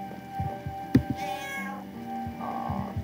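A cat meows nearby in a few short, distinct calls over a quiet indoor background with a soft sharp tap partway through.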